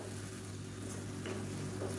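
Thick tomato masala gravy bubbles and sizzles gently in a pan, a steady soft crackle over a low hum.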